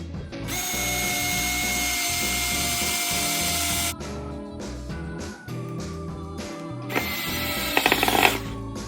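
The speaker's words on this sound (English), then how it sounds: "and now drilling in the screw." Power drill driving a screw into a wooden quilt rack: loud sustained whirring bursts with brief pauses, ending in rattling, ratcheting clicks as the screw seats, close by with no talking.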